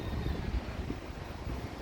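Steady wind buffets the microphone in a low, rumbling rush with no pauses and no voices, outdoors at an airport terminal in the Philippines.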